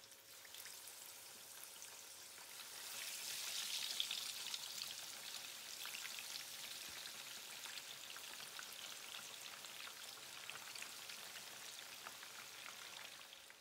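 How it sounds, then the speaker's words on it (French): A steady hiss of fish sizzling in hot oil crackles continuously as it fries, peaking early and then holding even, with no voices present. "Je vais frire le poisson."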